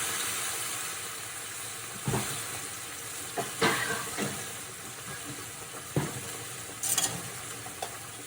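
White wine poured into a hot pan while making olive tapenade spaghetti, giving a steady faint sizzle with a few soft clinks and knocks scattered through, no voices.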